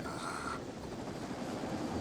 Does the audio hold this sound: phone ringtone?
no